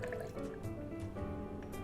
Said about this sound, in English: Next up, we have 30 mils of fresh lemon juice